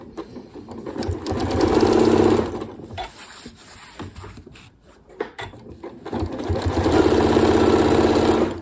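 A Janome Horizon Memory Craft 9480 QC sewing machine stitching during ruler quilting, running in two loud sustained bursts with a quieter pause between, no talking.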